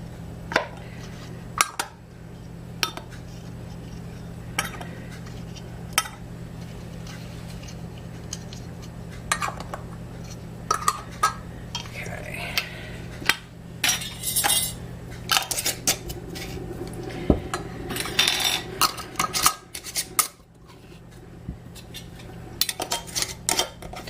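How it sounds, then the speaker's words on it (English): Metal canning lids are set onto glass jars by hand before pressure canning. The clip has a series of sharp metallic clicks and clinks, some close and some softer, spaced unevenly over a faint steady hum, with no talk. "And I'm going to pop the lids on."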